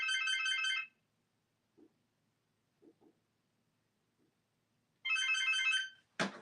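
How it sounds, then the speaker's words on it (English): A home telephone rings with an electronic ringtone: one burst at the start, a few quiet knocks during a near-silent pause, a second burst, then a brief clunk at the end. "that's my home phone ringing"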